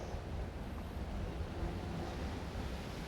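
Cool wind blows across the front balcony of a corner detached house, a steady broadband rush of gusts buffeting the microphone with no voices.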